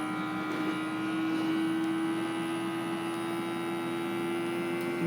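An electric mason jar vacuum sealer pumps air from a jar with a steady, close, even motor hum and whine that runs unbroken throughout, with no talking.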